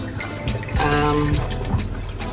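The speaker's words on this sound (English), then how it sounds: "I'll just rinse it out with cold water" Cold water runs from a tap over a butterflied tilapia being rinsed in a kitchen, a steady near splashing stream with brief shifts as the fish is moved under it.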